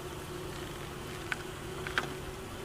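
Honey bees buzz around a hive in a constant low drone, with a couple of brief louder passes near the listener.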